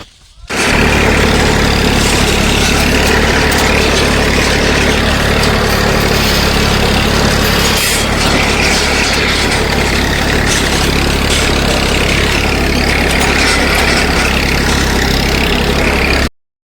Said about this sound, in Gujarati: ટ્રેક્ટર ચાલુ